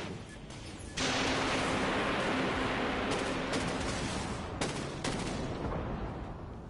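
A warship in the Dreadnought video game launches a torpedo with a sudden, loud, sustained roaring rush. Several sharper bursts cut through the heavy noise before it slowly fades.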